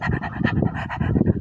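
A thirsty dog pants hard and fast, close by, with quick rhythmic breaths running steadily for the whole stretch.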